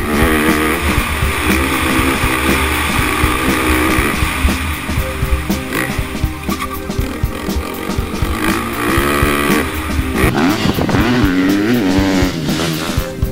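A 2013 KTM 450 SX-F motocross bike ridden hard around a dirt track, its single-cylinder engine roaring loudly and continuously with rising and falling revs through gear changes.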